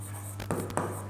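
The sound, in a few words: pen writing on paper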